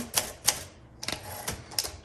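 Typing on a 1963 Olympia SM5 manual typewriter: several sharp, close key strikes in an uneven rhythm with short pauses between them, heard alone without any talk.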